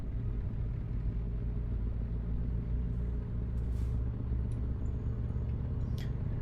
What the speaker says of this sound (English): It is very soothing hearing the indicator going and just hearing the engine idling.